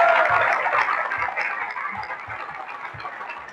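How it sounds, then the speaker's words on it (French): An audience at a festival closing ceremony claps in applause, a dense wash of hand claps that starts strong and gradually fades over a few seconds. "Rien que cet exploit mérite d'être applaudi."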